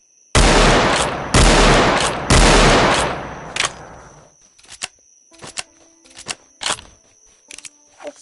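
Three loud gunshots ring out in quick succession while hunting bison in a Roblox wild west game, each blast trailing off, followed by a scatter of sharper, quieter clicks and pops.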